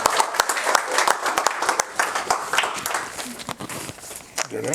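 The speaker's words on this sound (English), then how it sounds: "let's have a big round of applause for Chris O'Neill" Audience applause after an interview segment, a lively burst of clapping from a smaller crowd with distinct close hand claps, thinning out toward the end as a voice begins to speak.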